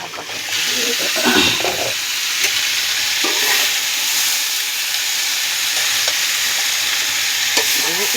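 Water spinach (kalmi) greens crackle and sizzle steadily in a pan, with loud scraping stirs near the start and then a continuous hiss of frying close by.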